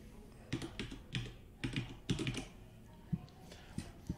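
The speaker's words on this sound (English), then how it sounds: "Let's just type in my name." Someone types a name on a computer keyboard indoors, a quick run of close, light key taps in small clusters with brief gaps.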